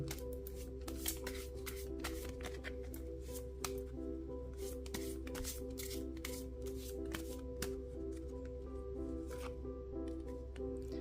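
Tarot and angel cards are handled and laid out by hand, giving a steady run of soft, quiet paper shuffles, slides and flicks.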